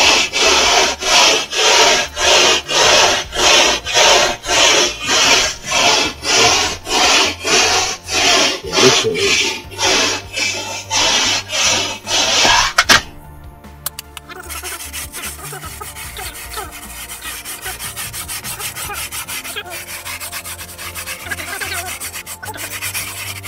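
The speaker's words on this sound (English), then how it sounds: "a brush, scrubbing brush, anything like that, scrubbing brush" A scrubbing brush works back and forth across a natural fibre carpet of sisal, jute or seagrass in loud, rhythmic rasping strokes that stop partway through, leaving quieter rustling and faint handling noise.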